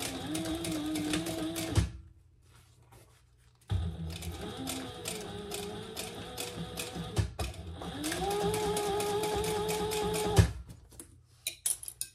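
A sewing machine stitches a leather pouch in two close, busy runs of rapid ticking needle strokes, the first short and the second long, separated by a brief quiet pause, followed by a few scattered clicks.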